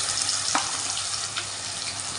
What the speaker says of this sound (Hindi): मैं अब इसमें ये प्याज डाल रही